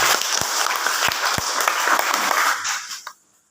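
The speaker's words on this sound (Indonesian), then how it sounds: "Tepuk tangan yang mau berhasil." A church congregation claps together in loud, continuous applause with a few sharper individual claps, then it quickly dies away into near silence at the end.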